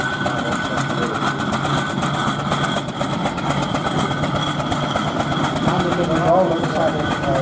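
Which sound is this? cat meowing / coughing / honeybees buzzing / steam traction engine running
steam traction engine running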